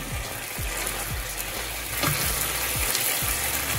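Pork steak (tonteki) fries in a frying pan with a steady, close hiss of sizzling fat, broken by soft periodic pops and bubbling, and no talking.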